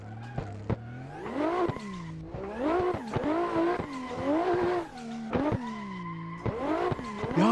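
A car drifting in the racing game Assetto Corsa, tires squealing in long sliding wails over a revving engine that rises and falls through repeated slides.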